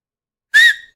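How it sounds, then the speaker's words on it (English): One short, very loud, piercing whistle made with the tongue and fingers, rising slightly in pitch and then cutting off against silence. "I decided for some reason I was gonna do the little tongue finger whistle"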